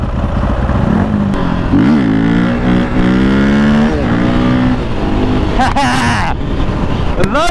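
Supermoto motorcycle, a KTM 450 or Honda Grom, revving hard with a loud cracking exhaust, pitch sweeping up and down through gear changes, close and continuous under wind noise with a voice briefly over it.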